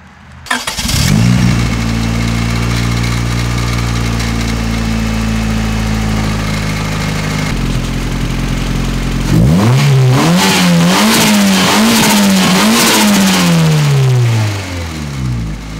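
A turbocharged Honda Civic with a suspected misfire cranks and catches, settles into a loud steady idle, then gets revved repeatedly in rising and falling sweeps before dropping back down.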